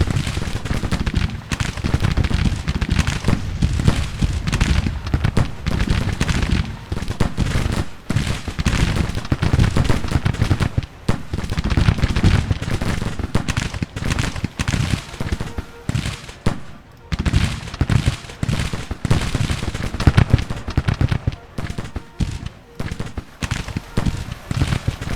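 Dense volleys of musket fire crackle continuously as troops shoot in Grand Tactician: The Civil War, rapid overlapping shots of varying loudness rolling on without pause, with occasional speech beneath.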